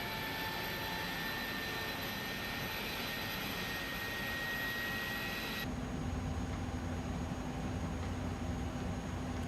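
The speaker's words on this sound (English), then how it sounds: "Looks like we're getting 2 good starts on our engines." Jet engines spool up in a flight simulator game, a steady turbine whine and hum with a sustained high tone that cuts off midway as the rumble settles into a broader, even roar.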